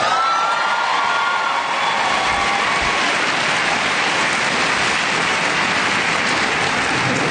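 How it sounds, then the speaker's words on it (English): Sustained applause from an audience at an MLK symposium keynote, dense and steady throughout, filling the hall with continuous clapping. "That was almost a Coach Harbaugh scale applause."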